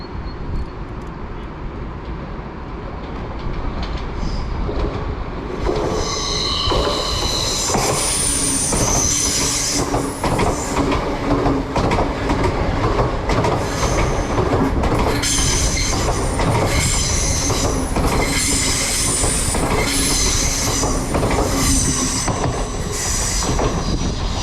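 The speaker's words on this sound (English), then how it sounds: "We've got an LNER service from Edinburgh to King's Cross." An LNER Edinburgh to King's Cross express passes through a station, starting as a low rumble and swelling into loud, sustained rolling wheel noise with rhythmic clatter and high squeals as the carriages sweep by close to the platform.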